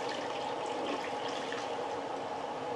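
Hot water pours steadily into a pan holding a low-carb Japanese cheesecake tin, ready for a water-bath bake, making a continuous close splashing rush with no talking.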